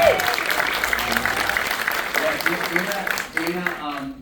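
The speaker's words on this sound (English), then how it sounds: "let's give her a round of applause." A live X-Men '97 Q&A audience breaks into a round of applause, loud dense clapping and some cheering that holds steady, then thins out near the end as talk resumes.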